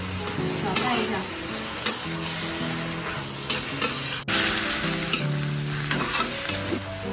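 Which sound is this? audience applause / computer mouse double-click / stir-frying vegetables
stir-frying vegetables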